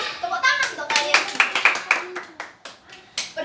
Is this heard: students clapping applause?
yes